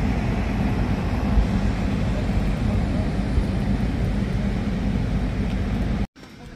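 Cabin of a passenger airplane bound for the Canary Islands, a steady broadband engine and air rumble that continues evenly, then cuts out abruptly near the end.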